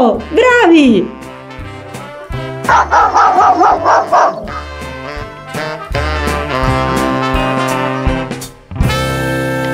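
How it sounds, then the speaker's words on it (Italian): A dog barks in short, loud yaps over bright, bouncy music, with a brief spoken interjection partway through. "Bravissimi! Era proprio del cane!"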